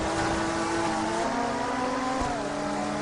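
A Panoz GT race car engine in the Total Immersion Racing video game drones loud and steady, its pitch holding then stepping through gear changes, with a rival car's engine layered close behind and no talking.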